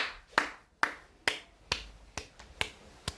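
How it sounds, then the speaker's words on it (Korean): Hand claps demonstrating a poetic meter in a Korean literature class, a series of sharp, evenly spaced, close percussive hits with no talking. "이음보 느낌은 어떤 거냐면 박수 2번 치면 돼."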